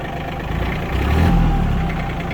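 An ISEKI GEAS 233F 23 hp mini tractor engine runs steadily after starting, a loud, close, continuous mechanical drone with a slight swell in the middle and no voices.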